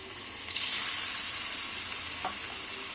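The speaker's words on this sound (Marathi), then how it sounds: "चला आता आपण ही तळून घेऊया आपण एक एक करून टाकूया" Chana dal bhaji fritters drop one by one into hot oil, a sudden surge of bubbling sizzle that stays loud and steady, with a faint tap from the spoon.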